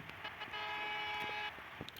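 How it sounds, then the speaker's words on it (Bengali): A bus horn in the driving game Bus Simulator Bangladesh sounds one sustained, bright honk lasting about a second, over a faint background hum of traffic. "আমি হর্ন দিতে দিতে যাই দেখি"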